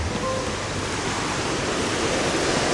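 Sanrentodoro waterfall in Kagoshima roars as a steady, loud broadband rush of falling water, continuous and close throughout with no talking.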